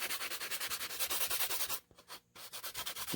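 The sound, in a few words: sanding with a drywall sanding sponge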